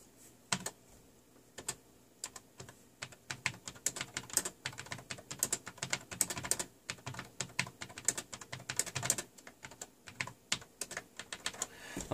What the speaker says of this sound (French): ça fait un petit bruit de clavier à membrane